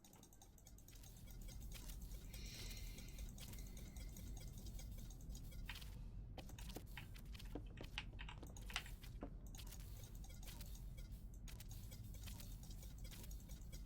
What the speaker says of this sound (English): That's because I'm clicking too fast for it.